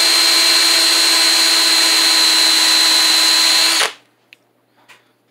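A corded electric drill runs steadily at high speed with a strong whine, turning a saber speaker mount in its chuck on a workbench, then cuts off abruptly and leaves a few faint handling clicks in near silence.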